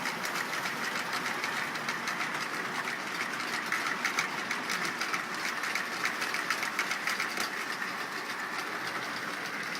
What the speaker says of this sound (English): This is the train I've waited 11 years to run.